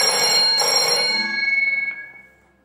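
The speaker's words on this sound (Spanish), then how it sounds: "Ahí está el teléfono" A telephone rings in a television studio during a Spanish talk show, a loud electronic bell ring that sustains and then fades out over a couple of seconds, heard alone.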